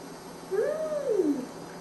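A young child imitates an elephant trumpet, one drawn-out voiced squeal that rises and then slides down over about a second, close and clear with no other talk.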